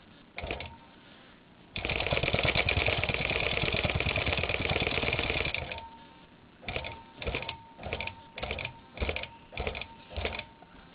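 A longarm quilting machine stitches a quilt, first in a long continuous buzzing run, then in a series of short regular bursts with brief pauses between them, close and fairly quiet.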